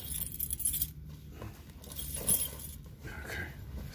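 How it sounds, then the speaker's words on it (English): Keys jangle and clink as they are pulled out of a trouser pocket, a scattered run of soft metallic chinks and rustles at close range over several seconds, with no voices. "That's taking the keys out of my pocket so they don't fall out."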